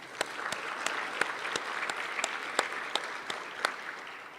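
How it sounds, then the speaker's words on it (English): A round of applause fills a legislative House chamber, steady dense clapping from an audience with a few sharper individual claps standing out at regular intervals, moderately loud throughout. "If we can give the Institute for Human Services a round of applause"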